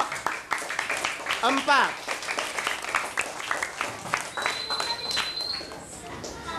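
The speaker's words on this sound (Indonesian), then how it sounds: "tepuk tangan yang meriah untuk kelompok" Applause from the audience for group 4 at a children's drama performance, scattered clapping with a crowd murmur and children's voices, while a voice speaks briefly over it.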